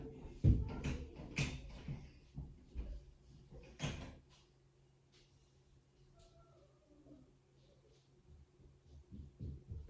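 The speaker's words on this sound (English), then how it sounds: "I was hearing my son trying to like open the door" A child fumbling at a door from inside a home, giving a few knocks and rattling thumps early on, then fainter scattered handling noises and quiet background sounds.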